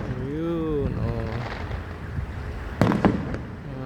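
Fireworks at Enchanted Kingdom amusement park heard from a distance as a few muffled pops and a sharper crackling burst under a steady wind-like rumble, with a person speaking excitedly over it.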